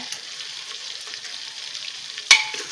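Kasuri methi fries in mutton curry masala in a pan, a soft, even sizzle close by with light stirring and one sharp clack near the end.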